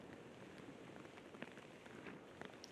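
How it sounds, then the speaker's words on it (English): Rain falls on a disc golf course during a championship round, a soft, steady patter of drops with occasional louder taps, faint and distant, with no talking. "As it begins to rain, literally as we say it."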